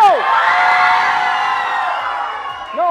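Studio audience on a Pakistani TV morning show shouting loudly in a noise contest, a sustained crowd roar of cheering and yelling lasting a few seconds, close and loud.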